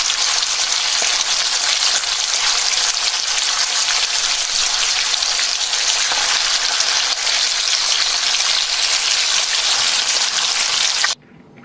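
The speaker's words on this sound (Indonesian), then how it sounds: "Lalu goreng ayamnya hingga setengah kering." Chicken pieces, boiled and then cut or shredded, frying in hot oil until half dry, giving a steady, loud, dense sizzle that holds without a break for about eleven seconds before cutting off abruptly.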